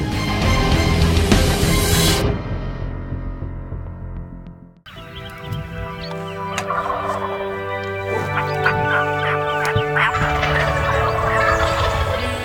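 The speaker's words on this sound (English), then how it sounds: "the sound of a distant gobble from a big tom announcing his wake" A wild turkey tom gobbles in the distance, announcing himself at daybreak, with a loud sustained call at first, then a sudden drop to quieter morning ambience with scattered bird chirps and calls.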